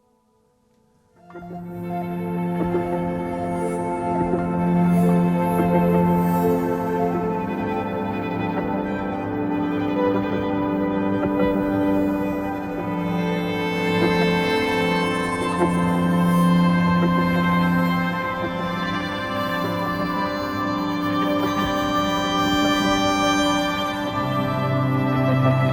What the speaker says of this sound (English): It all sounds like this together, and this is just the Viola Textures content.